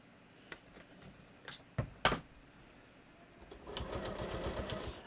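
Domestic sewing machine stitching slowly along the folded hem of a pair of jeans, a few short clicks and bursts early on, then a steady, soft, fast mechanical whir building over the last second or so at close range.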